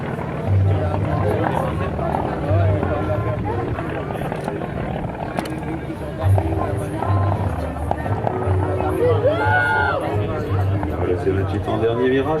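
A P-40 fighter plane drones in the distance while coming in to land on an airfield, its engine hum sitting under close conversation and a bustling crowd at a show.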